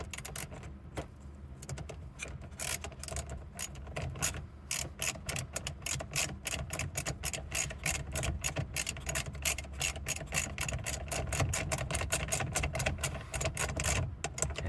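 A 13 mm socket on a ratchet tightens a nut while fitting a subwoofer in a 2023 Toyota GR Corolla, with rapid, steady pawl clicking running continuously at close range.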